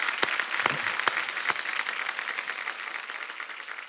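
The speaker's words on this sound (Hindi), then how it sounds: "एक बार जोरदार तालियां हो जाए हमारे सारे स्टार्स के लिए।" Studio audience applause on the set of The Kapil Sharma Show, a dense, steady wash of many hands clapping with a few sharper claps standing out early, continuing evenly throughout.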